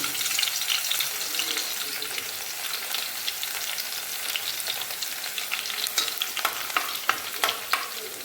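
Bay leaf and garlic fry in hot oil with a dense, crackling hiss, the spitting and popping growing busier and sharper toward the end, close and steady with no voices.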